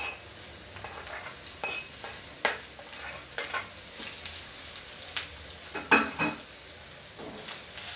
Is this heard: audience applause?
no